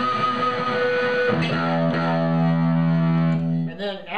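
An electric guitar played through a Tech 21 Comptorsion gated fuzz pedal rings out in sustained, buzzy fuzz chords that hold and shift before cutting off abruptly near the end.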